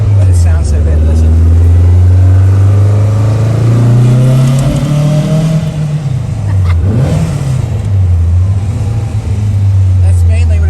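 A black 1969 VW Beetle's engine revs loudly inside a tunnel, its air-cooled drone rising and falling through several throttle blips with a booming, echoing tone, up close and continuous, while people talk over it.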